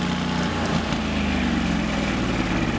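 A Lincoln portable welder's engine running steadily at high idle, a loud, constant mechanical drone with a low throb, close up, with no talking.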